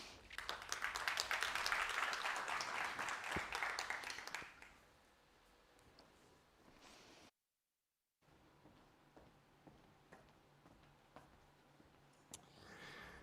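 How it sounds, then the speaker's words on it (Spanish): An audience at a technology forum in Valencia welcomes a speaker with applause, a brief, faint patter of clapping in the first few seconds, then quiet room noise with scattered taps. "vamos a recibir con un fuerte aplauso a Rafael Sebastián"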